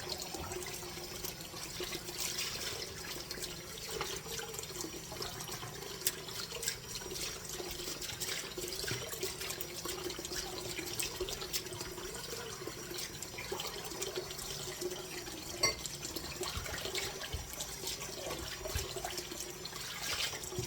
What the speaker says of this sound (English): I am going to wash that bowl out.